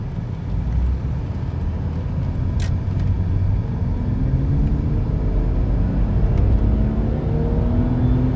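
Car accelerating on a busy road, engine note rising steadily through a gear change under a continuous low rumble of road and cabin noise, heard from inside.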